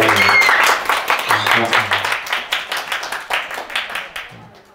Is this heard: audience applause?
yes